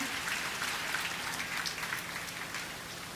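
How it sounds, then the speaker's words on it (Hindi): Students and staff at a school sports prize ceremony keep up continuous applause, a soft, rain-like patter of many hands heard from some distance, fading slightly toward the end. "तालियों में कमी नहीं होनी चाहिए."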